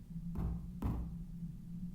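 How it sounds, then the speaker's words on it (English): Two dull, muffled knocks on a door or wall inside a house at night, spaced about half a second apart and heard faintly through steady low room noise. "Someone was knocking on a door or wall, dull and muffled."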